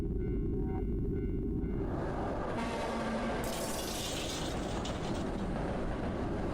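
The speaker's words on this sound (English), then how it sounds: "Like a train going right by me." Loud train-like rumble from a video game, a heavy continuous roar that swells with a harsh hissing rush partway through as if passing right by, filling the whole clip with no speech.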